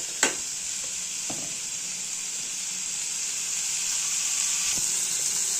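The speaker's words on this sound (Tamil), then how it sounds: "சேர்த்துட்டு நல்லா வதக்கிடுறோம்." Potatoes sauté in a pan with a steady, bright sizzle and hiss, broken by a few sharp clicks and scrapes of stirring, close and continuous with no voices.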